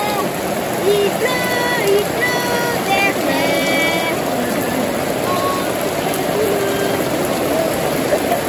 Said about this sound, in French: Il pleut, hein?